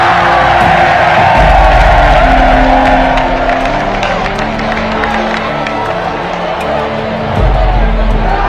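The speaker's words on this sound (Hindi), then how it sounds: "जोरदार ताली बजा करके हम सब पूरा बागेश्वर परिवार स्वागत करें।" A large crowd at a Bageshwar Dham gathering roars in welcome, loud cheering and whooping with clapping mixed in, a dense continuous noise with a low hum underneath that drops and then returns.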